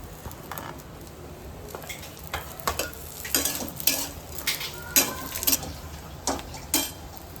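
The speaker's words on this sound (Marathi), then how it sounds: "मग थोडंसं तेल, एक खोबरं लाल होतोपर्यंत परतून घ्यायचं" Grated coconut sautés in a little oil in a pan, a soft bed of frying crackle broken by irregular scrapes and clicks of a spatula stirring, fairly close and without talk.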